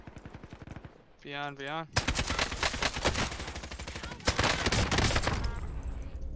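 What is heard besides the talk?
gunfire in the video game Warzone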